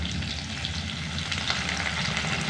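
Curry leaves and onion frying in hot oil for a Tamil sundakkai kuzhambu, a steady dense sizzle with faint stirring clicks, continuous and close, with no talking.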